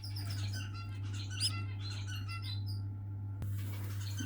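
A newly hatched duckling, weak after being stuck in its shell during an assisted emergency hatching, gives a run of thin, high chirps and squeaks close by. The chirps fade out, then one faint call returns, all over a steady low electrical hum.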